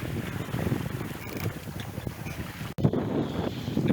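A sailboat under way in open water, with strong wind buffeting the microphone and water rushing and splashing along the hull, loud and continuous with a brief dropout near the end.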